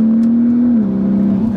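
A turbocharged VW MK5 Golf R32 engine holds a loud, steady tone under load, dropping slightly in pitch near the end as turbo boost swells, heard close with nothing else over it.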